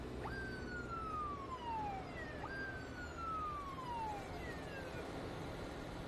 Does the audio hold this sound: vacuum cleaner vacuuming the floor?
no